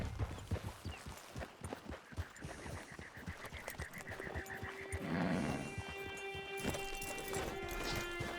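A horse in Red Dead Redemption Online walks with soft, quiet clip-clopping hooves near a camp, followed by a drawn-out whinny and faint ambient wildlife.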